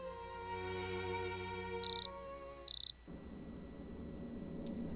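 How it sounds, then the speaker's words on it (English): Two short bursts of a high electronic cell phone alarm in the Corpse Party horror game, ringing out over a sustained musical drone that cuts off abruptly afterward, leaving a low ambient hum. "The alarm on my cell phone sounded, as if in answer."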